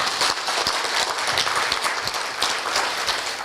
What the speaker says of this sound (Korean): 김태희 기획관, 그 다음에 MP 교수님이신 박태원, 김영옥, 배용규 교수님께 큰 박수 한번 부탁드립니다